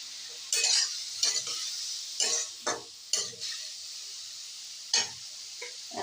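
A utensil stirs radish with chillies, salt and turmeric in a pan, making a series of separate close scrapes and taps at an uneven pace, with faint frying underneath and no speech.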